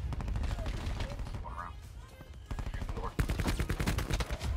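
Rapid bursts of KN-57 MKII rifle gunfire in a Call of Duty-style shooter, dense automatic volleys that pause briefly midway and then resume louder and closer, with faint game sounds and a little talk underneath.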